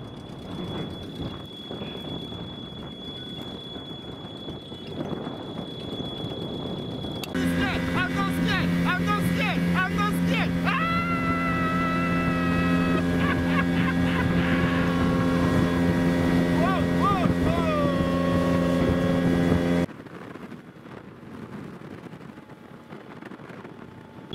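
A motorboat engine on a boat tour in Gwalior, India hums steadily with wind buffeting the microphone, then grows louder and busier midway before dropping back to a quieter rumble.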